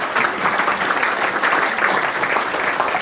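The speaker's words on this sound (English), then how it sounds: "So let's give them a round of applause, please." Loud, close audience applause for a panel of speakers at an economic development meeting, continuous and thick throughout with slight pulsing in intensity.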